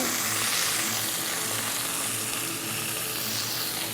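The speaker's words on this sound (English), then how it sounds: "Going to get my onions and drop those in there." Onions hit a couple of tablespoons of hot olive oil for an Italian sausage and penne pasta, giving a loud, dense, unbroken sizzle heard up close.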